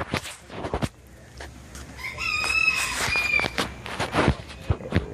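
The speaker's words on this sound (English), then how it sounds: "They've got chickens." Chickens cluck around a rooster crowing in the middle, a strained drawn-out call, with footsteps and shuffling nearby.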